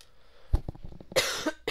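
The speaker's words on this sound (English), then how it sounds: "Coughing more." A person coughs several times in close succession, ending in a harsher, breathier cough, close and fairly loud.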